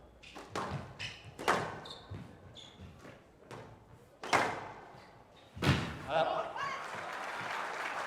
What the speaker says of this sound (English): it's that thunderous forehand volley